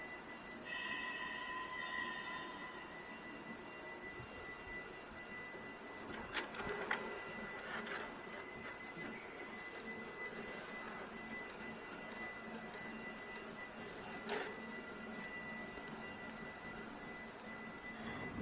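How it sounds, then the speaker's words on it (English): A printer attached to a Cummins common rail injector test bench runs steadily for a long stretch, producing a constant whirring hum with faint tones and a few brief clicks. "You can print the testing results through the printer."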